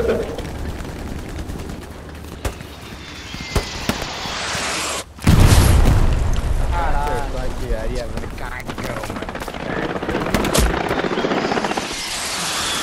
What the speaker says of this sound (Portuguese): Artilharia inimiga